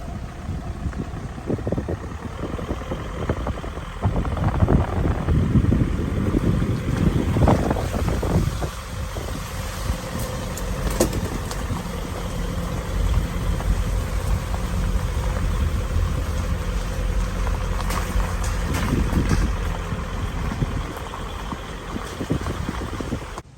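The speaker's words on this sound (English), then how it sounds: "So it's windy up there still" Strong storm winds in the Smoky Mountains buffet the microphone for a long stretch, a loud roaring rush that surges and eases with sharp rattling bursts now and then.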